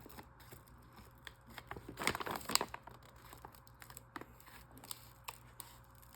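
Plastic packaging around nylon bead cords crinkles and rustles as scissors snip it open, a close, quiet run of crackles and small cuts with a busier burst in the middle.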